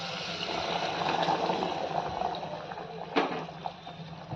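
Home-cooked chicken stock (rassa) pours into a pan for a spicy chicken curry, a steady liquid gush and bubbling at close range, with a brief sharper splash near the end; no one speaks.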